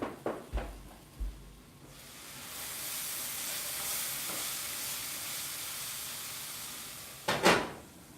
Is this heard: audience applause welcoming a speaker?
no